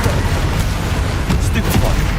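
Confringo spell explosions in the Hogwarts Legacy video game, a dense run of booming blasts and crackling bursts that fill the whole stretch at close range, with spell casting mixed in.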